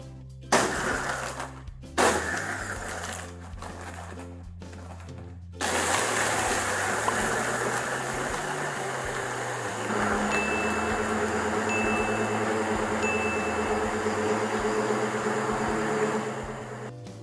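Blender blending a Blue Sky yogurt smoothie with ice: a few short pulse bursts of grinding and clattering, then a sustained loud motor whir that steadies as the contents smooth out.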